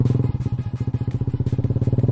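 Motorcycle engine pulling hard under throttle while riding, on a Yamaha MX King fitted with a super long swingarm; a loud, close, rapid pulsing exhaust beat holds steady throughout with no talking.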